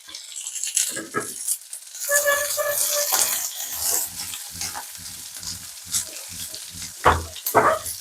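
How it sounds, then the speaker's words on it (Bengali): Onion, capsicum and green chillies fry over high heat in a pan with ginger and garlic, loud sizzling broken by scraping stirs and rattling bursts as the spatula moves. "পেঁয়াজ আর ক্যাপসিকাম গুলো 2-3 মিনিট এরকম একটু তেজ আঁচেতে ভেজে নেবো"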